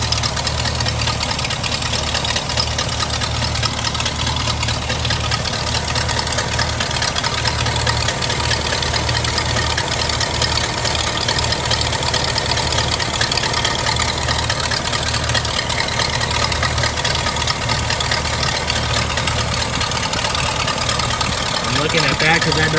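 A hearse engine idles steadily with the choke on while warming up, a continuous loud low rumble throughout, with some talking over it.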